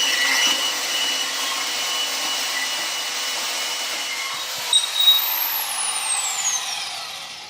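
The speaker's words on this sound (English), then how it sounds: "I let the saw get up to speed." A bandsaw cutting angle iron whines with a steady, loud high-pitched hiss that holds for several seconds, then a brief metallic clatter and a falling tone as the blade winds down.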